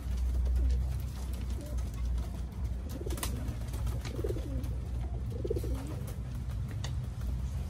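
Pigeons in a loft, including breeding cocks, hens and young birds, give repeated low rolling coos in bursts over a steady hum, fairly close and with no one speaking.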